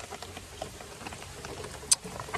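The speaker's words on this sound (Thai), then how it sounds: "ฝนตกค่ำจ่อย" Rain falls on a palm oil plantation as a steady patter of drops, with one sharper tap standing out near the end.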